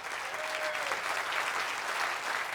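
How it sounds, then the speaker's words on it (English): At a charity gala dinner, a crowd gives a big round of applause for sponsors and volunteers, a dense, steady wash of clapping from a large room. "Can we just give a big round of applause to all those people?"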